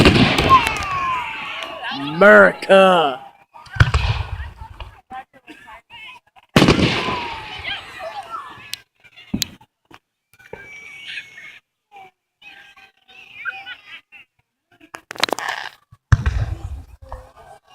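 Fireworks burst at a public display, with several loud booms and crackling explosions spaced across the scene, some with whistling or sizzling trails, while people nearby talk and react between the blasts.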